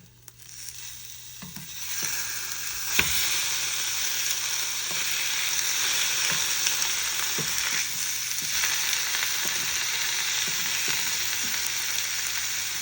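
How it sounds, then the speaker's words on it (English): Pork hocks brown in a hot pan with a steady, bright sizzle and frying hiss, with occasional scrapes and knocks as they are turned, close and alone. "Brown pork hocks on each side."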